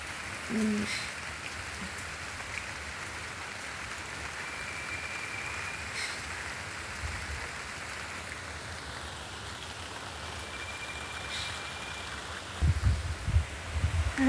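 Steady rain falling outdoors on plants and surfaces, a dense even patter throughout, with a few faint knocks and louder thumps near the end.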